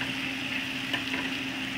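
Chicken sizzles steadily in a pan over garlic pieces, a continuous close frying hiss with no talk.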